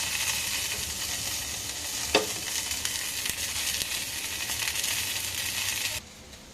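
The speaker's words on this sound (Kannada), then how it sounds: "ಇವೆಲ್ಲ ಹಾಕಿ ಎಣ್ಣೆಯಲ್ಲಿ 1 ನಿಮಿಷ ಫ್ರೈ ಮಾಡಿಕೊಳ್ಳಿ" Chutney ingredients including peanuts and chana dal fry in hot oil in a pan, a steady close sizzle with stirring scrapes and one sharp clatter just past two seconds, cutting off near the end.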